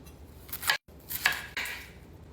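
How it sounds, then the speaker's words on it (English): A knife slicing an onion into long, thick pieces on a cutting board during home dinner prep, with a few crisp, close cutting strokes separated by short pauses. "I also slice those long and big"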